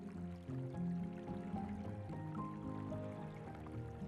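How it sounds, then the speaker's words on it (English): Running water from melting snow in spring woods, a gentle trickling and gurgling stream close by, quiet and continuous with no voices. "one of my favorite spring sounds is the sound of running water and melting snow"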